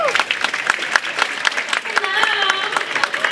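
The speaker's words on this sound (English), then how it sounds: "a big round of applause this time, ladies and gentlemen, for Joe Koster." Wedding guests clap and cheer at a reception toast, a steady burst of applause with whoops, close and lively, with a voice calling over it.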